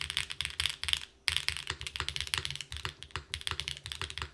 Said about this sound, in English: I don't think the sound is bad.